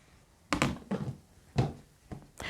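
Plastic lid snapped shut on a urine sample container on a paper napkin, several short close clicks and thunks in quick succession, with no talk.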